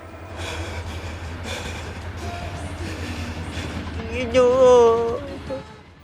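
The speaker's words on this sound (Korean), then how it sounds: "가까이 들려오기 시작하는 기적 소리" A steady low rumble of a train runs throughout, then a wavering whistle rises briefly near the end, moderately loud.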